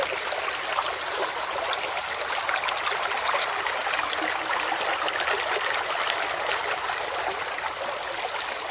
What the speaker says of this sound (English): I like the sound of these kind of lakes.